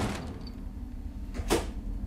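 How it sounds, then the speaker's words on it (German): A door is kicked open in the horror video game The Evil Within, a single sharp broadband bang standing out briefly over steady low game ambience, with no talking. "Ich weiß gar nicht, ob es so schlau ist, um alle Türen aufzutreten."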